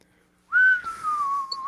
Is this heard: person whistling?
yes